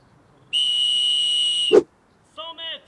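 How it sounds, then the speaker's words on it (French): A double-chamber survival whistle from a cheap survival kit, blown outdoors some distance away: one long steady shrill blast of about a second, a brief thump, then two shorter blasts, faint against the open air. "C'est un sifflet à double passage, donc ça a l'air de siffler super fort."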